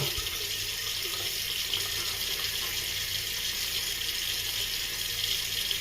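A tap runs steadily with a constant hiss of flowing water, close by and uninterrupted for several seconds.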